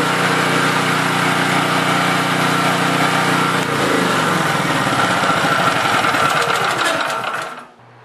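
A small portable generator, recently repaired with a new ignition module, runs steadily with a loud, close buzzing engine note that shifts partway through, then cuts off abruptly near the end.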